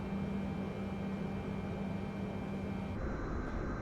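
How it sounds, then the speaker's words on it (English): A Boeing Dreamlifter engine spins up in Microsoft Flight Simulator 2024, a steady broad turbine roar with a sustained hum that shifts in tone near the end, alone with no talk. "We're gonna go ahead and start up engine 3 now."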